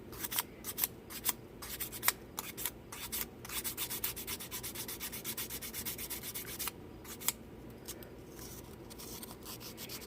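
Fine-grit finish sandpaper rubs by hand along the edge of a Mini's cowl hood in quick, steady back-and-forth scratchy strokes, close and fairly quiet, with no talking.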